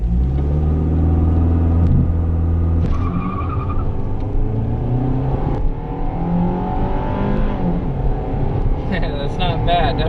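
A 2003 Chevy Cavalier accelerates hard with its engine droning and rising in pitch, tires briefly spinning and chirping, heard from inside the car with people talking over the rumble.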